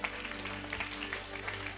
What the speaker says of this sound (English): Can we clap for Jesus? Amen.